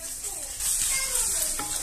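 Chicken pieces and green chillies frying in a pan for a vegetable chicken pasta, a steady close sizzle with soft stirring scrapes, no talking.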